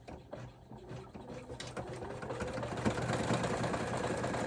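An embroidery machine top-stitches a partial seam on an in-the-hoop wallet, a steady mechanical whir that builds slightly and hums on continuously throughout.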